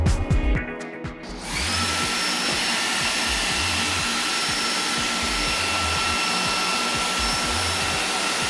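A Samsung Jet 60 series cordless vacuum cleaner runs after a battery replacement, a steady loud whine that starts abruptly after a brief clunk and holds constant without talk.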